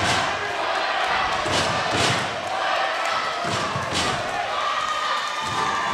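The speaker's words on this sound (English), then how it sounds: "We hear the crowd chanting Mario." A large arena crowd at a basketball game chants and roars in rhythmic waves, loud and dense, with thumping impacts in the mix.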